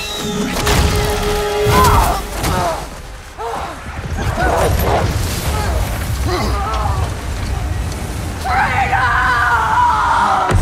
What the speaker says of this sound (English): You hear that scream?